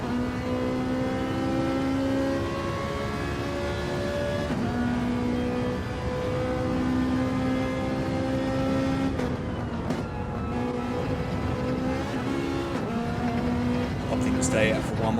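GT3 race cars lapping the Red Bull Ring in a racing video game: a continuous high engine whine with shifting pitch as the cars accelerate and change gear, under a commentator's ongoing talk.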